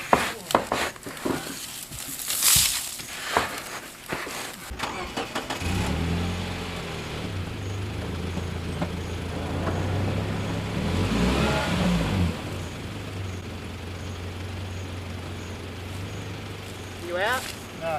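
A 4WD stuck at Ivanhoe Crossing in the East Kimberley, its engine revving hard as the left wheel spins, a steady mid-pitched roar rising and falling under spoken voices.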